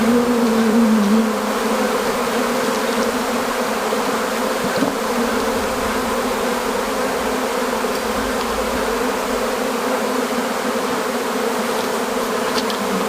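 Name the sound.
honey bees buzzing at an opened hive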